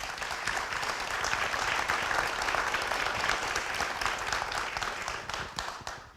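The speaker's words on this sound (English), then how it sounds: "Why don't you give our panelists a round of applause before we get started." An audience at a school finance summit gives the panelists a warm round of applause, a thick continuous sheet of clapping that holds steady for several seconds before beginning to taper off at the end.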